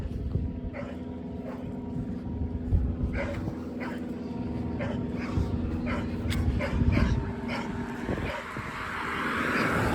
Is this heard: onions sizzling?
no